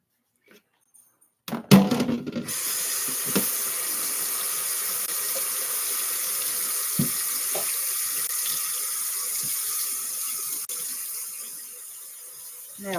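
Tap water runs steadily into a kitchen sink while shrimp are rinsed, starting abruptly after a brief quiet moment with a few clinks, then a continuous close hiss that tapers slightly near the end.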